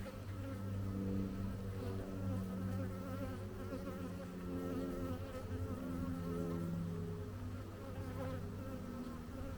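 Disturbed honeybees swarming around a beekeeper at a hive, a dense, steady droning buzz of many bees close to the microphone, continuous and fairly faint, with wavering pitch as individual bees pass.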